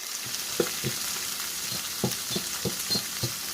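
Hot dog chili with ketchup and chili powder stirred in a pot, a utensil tapping and scraping in a loose rhythm over a low steady sizzle, close and quiet.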